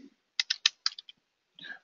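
A computer keyboard typed on during a software walkthrough: a quick run of about seven crisp keystrokes, close and clear, then a pause and a soft rustle, with no talking.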